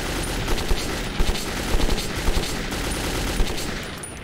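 Rapid sustained gunfire in Metro 2033 emptying all the ammo on mutants, a loud continuous rattle of shots with sharper bursts scattered through it.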